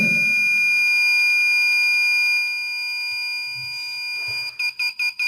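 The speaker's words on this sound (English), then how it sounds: "I can turn on the buzzer." A steady high-pitched electronic buzzer tone drones continuously, then breaks into five rapid, evenly spaced beeps at the end.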